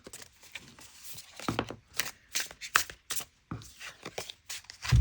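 A deck of tarot cards being shuffled by hand, with repeated riffling bursts and soft slaps of cards at close range, in an uneven rhythm and with no talking.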